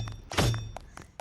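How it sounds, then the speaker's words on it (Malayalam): A school blown up inside the Roblox video game: a single loud synthetic blast with a short low rumble, flanked by a few softer thuds and clicks in the game audio. "യെസ് ഗായ്സ്, നമ്മൾ സ്കൂൾ പൊട്ടിച്ചിട്ടുണ്ട്."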